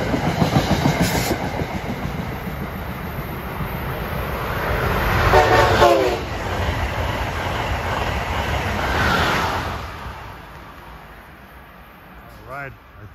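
Amtrak train 97, the Silver Meteor bound from New York to Miami, rolls past at Hamilton, New Jersey, with a steady rumble and clatter swelling and fading, horn blasts sounding midway, and someone talking over it.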